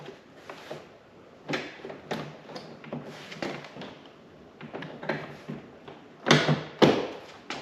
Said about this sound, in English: Now we can go ahead and hang our door panel back on the door sill